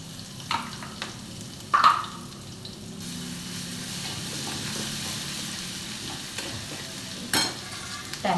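Mustard seeds, cumin and ginger-garlic paste frying in a pan for masala bhindi, a soft steady sizzle broken by a few louder stirring scrapes and pops, no voices.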